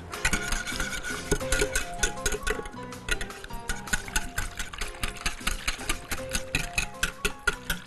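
Milk and spices stirred in a bowl while making a batter for crispy cauliflower, with quick rhythmic scraping and clinking of a utensil against the bowl, close and steady, and a low hum underneath.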